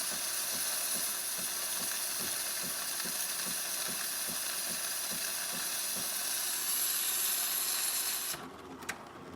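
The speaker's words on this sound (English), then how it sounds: "As you can see, the steam is perfectly fine." Steam from a Jura Impressa espresso machine hisses steadily alongside a regular mechanical ticking pulse, then the hiss cuts off near the end.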